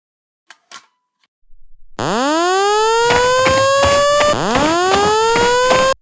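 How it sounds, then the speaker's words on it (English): A building fire alarm, set off from a manual pull station, wails loudly and continuously with two rising sweeps, after a few faint clicks and a short pause of near silence. "It looks like someone pulled the fire alarm."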